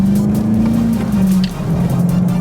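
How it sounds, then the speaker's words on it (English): A C5 Corvette driving and accelerating, its engine a steady, loud low drone that rises slightly in pitch, dips briefly midway, then carries on close and continuous. "This car's freaking fast"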